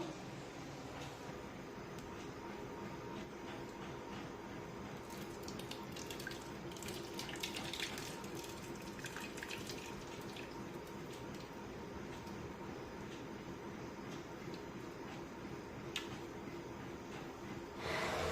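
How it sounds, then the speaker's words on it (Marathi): Excess water drains from cooked spinach, pouring and splashing steadily and continuously, a dense rushing sound throughout with no voices. "या भाजीमधलं जे एक्स्ट्राचं पाणी आहे ते काढून घेऊया"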